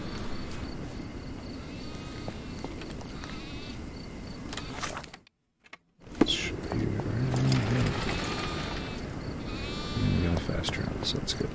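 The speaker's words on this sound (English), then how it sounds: "A goat!" Goat bleating in a Sherlock Holmes detective game, several wavering bleats heard over a busy ambient background, moderately close, broken by a brief silent gap partway through.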